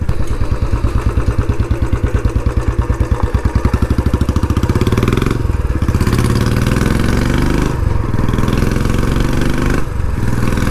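A Royal Enfield Classic 350 motorcycle fitted with a loud aftermarket exhaust idles nearby, its steady thumping beat continuous and loud, with a few brief throttle blips that raise the pitch before it settles again.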